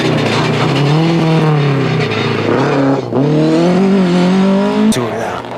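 Ford Escort rally car racing at the 2003 Haspengouw Rally, engine revving hard through gear changes with rising and falling pitch, loud and close, a brief drop near the middle before it pulls away again.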